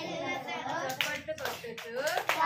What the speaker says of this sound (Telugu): చప్పట్లు కొట్టుచు